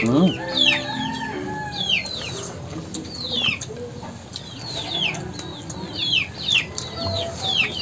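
Chickens cluck and chirp close by in a Filipino backyard, repeated rising calls over a low outdoor murmur, with someone talking at times.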